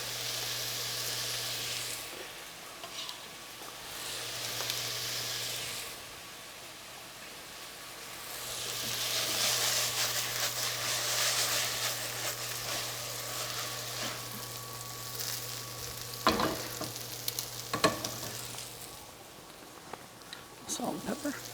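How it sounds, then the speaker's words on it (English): Squash, zucchini, peppers and tomatoes sauté in a pan with garlic added, giving a steady broad sizzle that swells midway, with a few sharp utensil clicks near the end and talk mixed in. "And now I'm gonna add a touch of the garlic into it."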